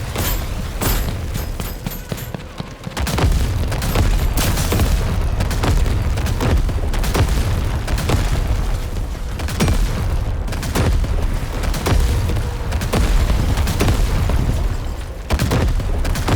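Repeated heavy booms from a tank's burst weapon in the video game TankHead, fired in quick runs of blasts with a rumbling, continuous battle din between shots.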